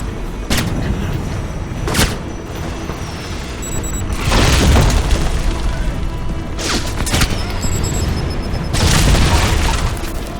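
Grenade explosions in Alpha Protocol: several heavy booms go off a couple of seconds apart, each a loud, close blast with crackling debris and a rumbling tail.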